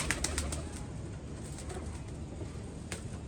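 Domestic pigeons kept in a rooftop loft give soft, low cooing through a steady murmur of background noise, with a few faint clicks and rustles and no one talking.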